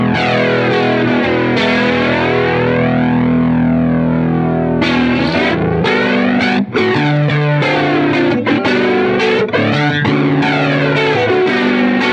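An iSet analog flanger pedal runs with distortion and its color control turned way down, giving driven electric guitar chords a subtle sweeping swirl, loud and continuous, with no talking.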